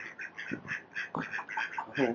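Ducks quack near a canal tunnel in a short run of calls, fairly close and moderately loud, mixed with faint voices nearby.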